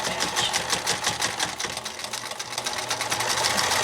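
Sewing machine stitching fabric for a homemade pocket filter mask, a rapid steady whir of needle strokes running continuously at close range for a few seconds without talk.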